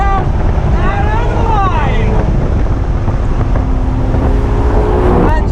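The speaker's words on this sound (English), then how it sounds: "That engine sounds fantastic." A 590hp Maserati Levante Trofeo SUV with a Ferrari-derived engine accelerates flat out near the top of an uphill run, its engine note rising under loud, constant wind buffeting.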